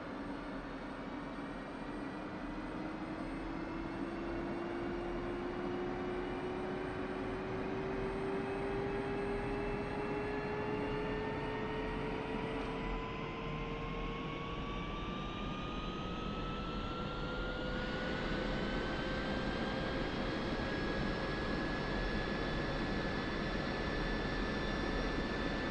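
F-16 Viper jet engine spooling up during startup in a flight simulator, a rising whine that climbs steadily in pitch over a constant rumbling roar, sustained and alone.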